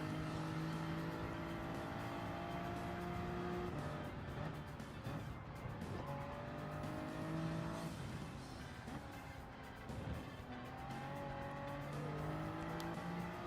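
Race cars in Gran Turismo 7, including a Porsche, roar continuously with layered engine tones that shift through gear changes, revving and passing close together, with occasional tire squeal and no speech.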